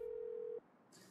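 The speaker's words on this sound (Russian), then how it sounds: "К маме Богдана не дозвонилась и решила набрать сестру Яну." A telephone line sounds a single steady tone for about half a second while a number is dialled, then it cuts off into quiet room noise.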